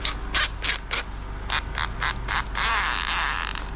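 Wooden dowel being locked into a drill chuck, a series of sharp ratcheting clicks in quick bursts, close and fairly loud, ending in a longer grinding rattle as the chuck tightens.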